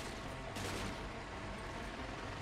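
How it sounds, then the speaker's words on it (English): Gunfire in Cepheus Protocol, a dense, steady rattle of distant shots with a slightly louder burst early on and no voices. "You're still shooting something."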